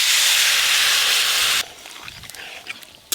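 Water poured into a hot pan of fried prawns gives a loud, steady steam hiss for about a second and a half, then drops to softer crackling and popping as the sizzle settles.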